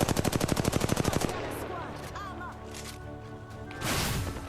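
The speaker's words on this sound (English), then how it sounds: "I am taking fire, friends. Fire!" Rapid automatic gunfire rattles in the shooter game Apex Legends: a fast, loud burst of evenly spaced shots for about a second, then tonal game effects and a hum follow.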